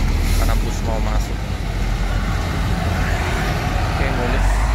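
A bus manoeuvres into a station, its heavy engine rumbling low and steady with traffic noise around, while people talk nearby.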